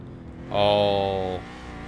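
A Subaru's engine revs up briefly in the racing game Gran Turismo 5, a bright, rising tone lasting under a second before dropping back to a quieter background hum.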